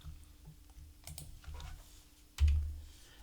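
A few light computer keyboard keystrokes click faintly in a quiet room, spaced irregularly while text is entered into a name field of a product program, ending in one heavier thump.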